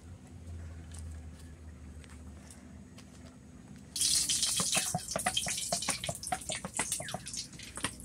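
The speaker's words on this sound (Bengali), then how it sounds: "এগুলোকে এবার আমি ধুয়ে শিলে বাটবো।" Prawns are washed under a running kitchen tap; a low quiet hum gives way halfway through to a steady, close gush of splashing water that continues to the end.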